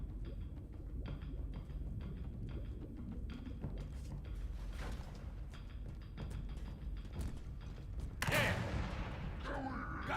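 Video-game gunfire in a mission battle, faint scattered pops and dull thuds under a constant low rumble, with one sharper, louder burst near the end.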